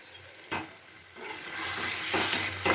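Chopped coriander leaves stirred into a pan of potol kalia, a Bengali pointed gourd and potato curry, with a ladle scraping and a soft sizzle building over a few seconds, close and fairly quiet, no talking.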